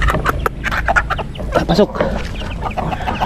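A backyard flock of farm chickens grown from two hens and a rooster clucks busily nearby, overlapping squawks and clucks in quick irregular bursts, with someone briefly speaking over them.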